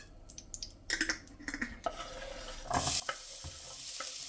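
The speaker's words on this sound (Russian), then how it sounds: "Обжариваем лук" Onion sizzles in hot vegetable oil in a frying pan, with scraping stirs of a utensil and occasional clinks against the metal.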